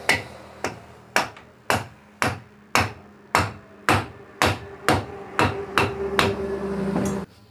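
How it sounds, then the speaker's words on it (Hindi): About a dozen sharp, evenly spaced hammer blows ring out up close while a submersible motor fitting is driven into place, each strike followed by a brief metallic decay, then a short steady rumble at the end. "इसको जो ठोक देना है अच्छे तरीके से"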